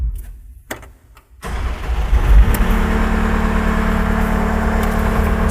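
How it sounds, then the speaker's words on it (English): A Wacker Neuson skid steer loader's engine cranks briefly, catches and settles into a steady, loud idle hum with a constant low drone that continues to the end. "We will now start the engine."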